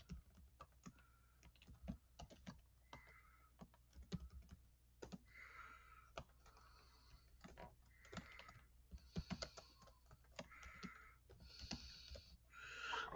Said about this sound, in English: like you would type it like this.